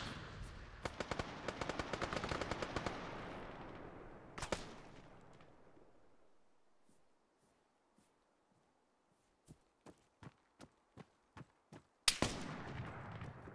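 Video game gunfire in Project Argo close quarter combat: a dense burst of rapid automatic fire, then a lone shot, near silence, and a string of evenly spaced single shots ending in another loud burst, with no talk.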